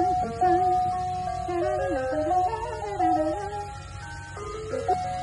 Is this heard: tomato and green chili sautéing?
no